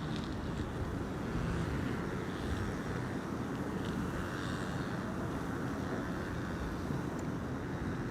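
An airplane lands on the center runway at Amsterdam Schiphol Airport, a steady, distant jet roar blended with wind rushing over the microphone and holding level throughout.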